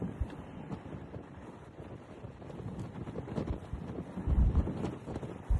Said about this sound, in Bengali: সুন্দর ঠান্ডা বাতাস